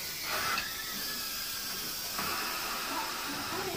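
Fish frying in a pan for brown stew fish, a continuous sizzling hiss with light crackles and small surges, fairly quiet and with no clear speech over it.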